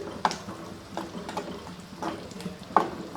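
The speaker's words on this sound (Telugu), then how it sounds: "తాలింపు ఇలా ఫ్రై అయితే సరిపోతుంది మరీ ఎక్కువగా కాకుండా" Cumin, curry leaves and turmeric fry in a little oil for a tempering, giving a soft close sizzle with intermittent scraping stir clicks from a spoon in the pan.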